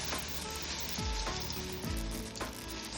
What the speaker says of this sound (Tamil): இதில் நான் பொரியை ஆட் பண்ணிட்டேன்.